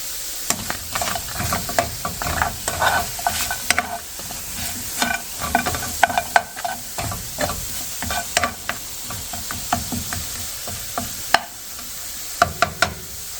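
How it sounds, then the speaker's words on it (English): Carrots sizzle in a pan while a utensil stirs them, with close clinks and scrapes in an irregular rhythm over a steady frying hiss and no speech. "So the carrots are just right now. So I'm going to just mix them up just a little bit."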